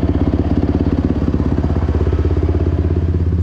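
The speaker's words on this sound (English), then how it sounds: "I'm high idling the truck" A Ford pickup truck engine runs at a high idle on a cold snowy day, making a steady, throbbing mechanical rumble close by with no voices.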